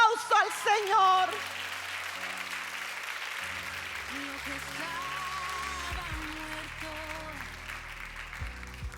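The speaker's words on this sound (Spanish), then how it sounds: "Dale un fuerte aplauso al Señor" A church congregation breaks into sustained applause during a Spanish-language worship service, a broad steady clatter of many hands lasting throughout, with a voice speaking briefly at the start and faint music underneath.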